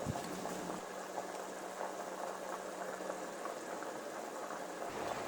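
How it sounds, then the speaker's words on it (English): Pasta noodles bubble in a pot of boiling water on a kitchen stove, a soft continuous seething and popping with a faint low hum, close but quiet and without any talk. "we got those the noodles boiling."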